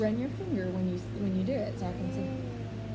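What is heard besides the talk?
No everyday noises stand out.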